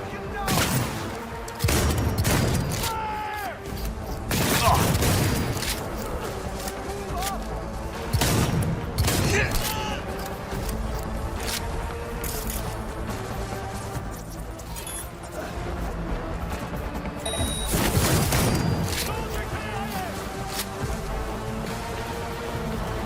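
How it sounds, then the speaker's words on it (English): Video game gunfire in Cyberpunk 2077: repeated bursts of shots and heavy impacts come in waves through the clip, loud and dense over a constant background of game ambience and music. "Opening fire!"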